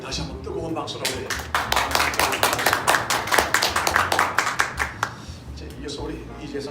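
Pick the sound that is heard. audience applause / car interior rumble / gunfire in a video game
audience applause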